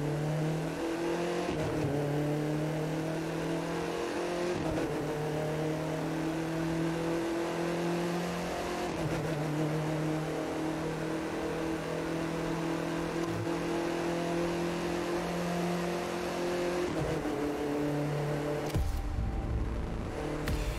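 A car in The Crew 2 held at full throttle, its engine roaring loud and steady with rising pitch, broken by a few brief shift dips and a sudden cut near the end.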